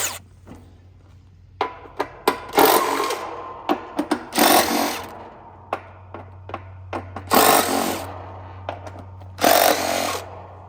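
A ratchet with a 1/2 inch socket loosens bolts on a scrap air conditioner, giving bursts of loud rapid clicking between sharp metallic taps and knocks over a steady low hum.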